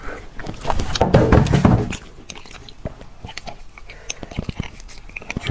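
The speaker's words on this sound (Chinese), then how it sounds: "今天来个牛骨髓啊。 牛骨髓就这么吃啊。" Close-up eating of beef bone marrow with sesame, loud wet chewing and sucking at first, then a run of sharp crunchy bites and smacks, with no talking.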